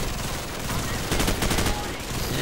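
Dense, rapid gunfire from Call of Duty 4, bursts of shots crackling through a wall in a close firefight, steady and loud with a thicker volley in the middle.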